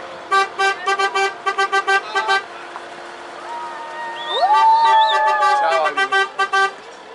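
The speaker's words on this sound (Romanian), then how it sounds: "Ăsta e claxonul ăla!" Car horn honking outdoors at a scout camp, a burst of short rapid toots followed by a longer sliding blast and a few more quick honks, loud and close.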